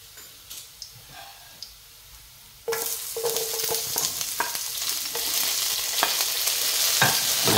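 Garlic stirred in a pan as it fries: a few light taps of the utensil, then a sudden burst of loud, close sizzling that keeps building, with scattered scrapes and clicks on top.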